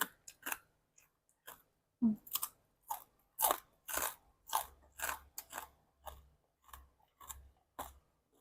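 Crunchy chewing of crispy fried pork tail eaten with papaya salad: close, loud, rhythmic crunches and bites repeat steadily in a quiet room, with no talking.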